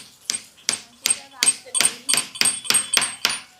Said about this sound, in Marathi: आता या साईडला मारतो मी. इकडे 3 खिले मारून घेतो.